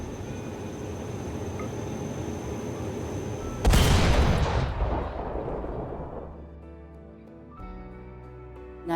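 A single powerful weapon fires in Rimworld, a loud blast with a crackling roar that slowly fades over several seconds, preceded by a steady low ambient hum.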